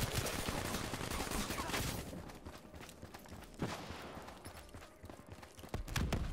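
Gunfire rattles in Black Ops 3 multiplayer, a dense burst of rapid shots up front, then scattered sharp cracks and shots, moderately loud amid game noise.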